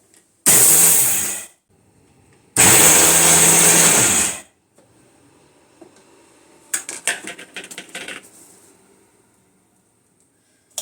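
A mixer grinder grinds soaked millet in two loud bursts of whirring motor, each lasting about a second or two, followed by softer rattling clatter as the jar is handled.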